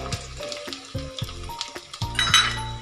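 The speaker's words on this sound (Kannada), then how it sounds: "ಎಣ್ಣೆ ಬಿಸಿಯಾಗಿದೆ. ಈಗ ನಾನು ತಗೊಂಡಿರೋಂಥ ಈರುಳ್ಳಿಯನ್ನು ಸೇರಿಸ್ತಾ ಇದ್ದೀನಿ." Onions drop into hot oil in a pan for a wedding-style drumstick sambar, giving a close sizzle with spoon stirring and clinks of metal cookware.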